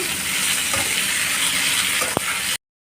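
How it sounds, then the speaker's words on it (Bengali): Mixed vegetables for shukto fry in oil with a dense, even sizzle close by, and a single short scrape of a spatula near the end before it cuts off. "সবজি অলমোস্ট ভাজা হয়ে এসছে।"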